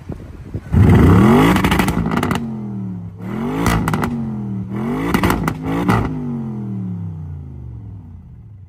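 Audi RS6 TDI in the rain, engine revving hard in repeated loud bursts with rising and falling pitch, close by, then settling back toward idle with no talking over it.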